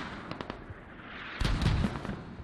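Military video game mortar fire: a few muffled distant thumps, then a louder cluster of booming impacts about halfway through, with no talking.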